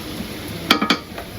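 Frying onions stirred in a pan for village-style chicken polao, with a few sharp spoon clinks against the metal over a low background sizzle, close and brief, no talk.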